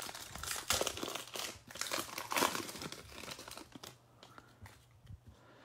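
A pack of basketball trading cards is torn open up close with crinkly foil wrapper ripping, crumpling and crunching in quick irregular bursts that trail off into softer handling.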